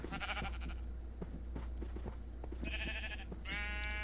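Sheep in a video game bleat several times over a steady low background hum, the calls coming in short wavering bursts one after another.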